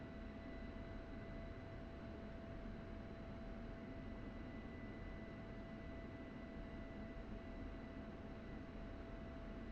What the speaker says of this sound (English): I'm going to throttle up, and we'll see the aircraft start to move forward